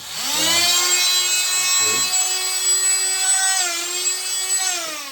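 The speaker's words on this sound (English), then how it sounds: "And now I have a little sander, and let's see how this will work on my" A small multitool sanding attachment buzzes with a high, steady whine, starting up and dipping briefly as it runs close by against a wooden board.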